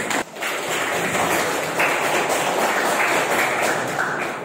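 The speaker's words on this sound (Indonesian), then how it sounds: "Tepuk tangan untuk Raffi." A classroom group claps together after a brief quiet start, a sustained patter of hands that stays fairly loud and close until the end.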